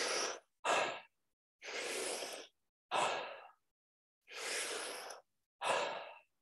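Slow, deep breaths drawn in and pushed out, six distinct breath sounds close to the mic, separated by short silences.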